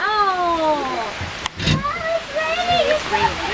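Waterfall in Kauai pouring and splashing steadily, a broad continuous wash of falling water with people talking over it close by.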